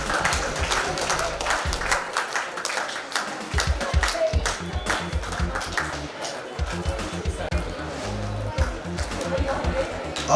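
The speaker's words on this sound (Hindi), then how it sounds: "जोरदार तालियां स्टेट चैंपियन के लिए।" An audience at a state school chess championship claps for the state champion, a dense, steady patter of many hands filling the hall, mid-distance and even, with a voice speaking faintly underneath.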